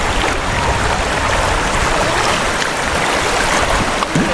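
A mountain stream rushes in a steady, loud broadband wash of flowing water, heard close up without pause and with no talking.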